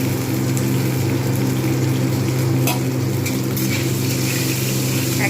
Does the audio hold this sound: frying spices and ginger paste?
yes